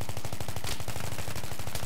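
Rapid automatic fire from an F2000 rifle in Battlefield 3, a loud, steady stream of closely spaced shots running through the whole stretch, with no talking over it.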